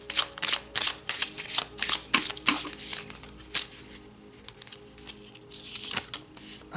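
Playing cards are shuffled close up in quick, crisp riffles and flicks, loud at first and then tapering into softer handling near the end.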